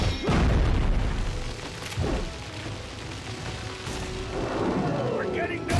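Grenade explosions in a video game: several heavy booms go off in sequence, loud and close, with deep rumbling decay between them and continuous game noise underneath.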